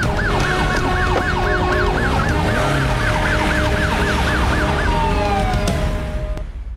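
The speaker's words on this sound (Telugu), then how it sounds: "సార్ కార్లో సైరన్ పెట్టుకుని శక్తిమాన్లా వెళ్ళాడు" A car siren wails loudly and close in a rapid rising-and-falling yelp, repeating many times over a busy traffic roar, then stops and fades toward the end, in a dramatic action movie scene.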